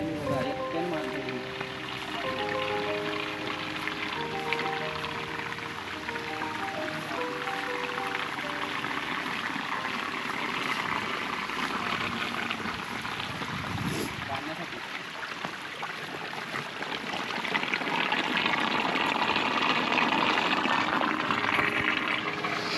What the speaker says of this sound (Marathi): थांबा मी पाणी पितो जरासं.